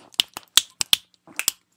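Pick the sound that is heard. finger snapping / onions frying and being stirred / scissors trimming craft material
finger snapping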